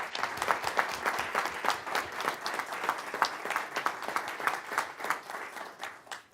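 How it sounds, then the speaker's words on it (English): Scattered, fairly sparse applause from a modest audience at a city council work session, individual claps distinct and rhythmic rather than a dense roar, moderately quiet and steady throughout. "Let's give them a round of applause."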